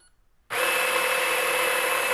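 Electric burr coffee grinder grinding coffee beans, a loud continuous high whirring grind that starts abruptly and runs steadily.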